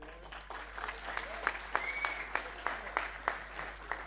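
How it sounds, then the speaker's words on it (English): Sparse, faint applause at a university graduation ceremony for the rector, with individual claps standing out in an irregular rhythm against a quiet room. "Give a good applause to her."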